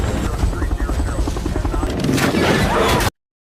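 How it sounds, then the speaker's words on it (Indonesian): Helicopter flying and manoeuvring close to a steep cliff during a rescue of a car on the edge, a loud continuous rotor roar that swells near the end. "helikopter harus bermanuver dengan sangat hati-hati mendekati tebing curam"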